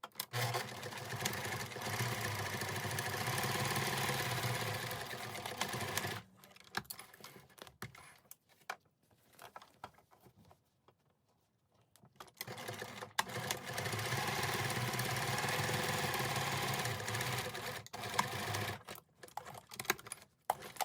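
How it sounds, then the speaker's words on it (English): A sewing machine stitching a quilted zipper pouch, running in long steady bursts of rapid stitching with a quiet pause in the middle, close and alone. "Off to the sewing machine."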